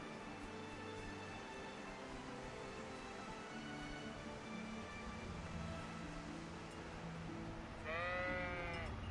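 A sheep bleats once in the video game Kingdom Come: Deliverance, a short wavering call near the end, after a long stretch of steady low ambient hum.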